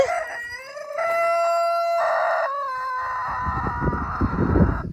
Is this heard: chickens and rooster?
yes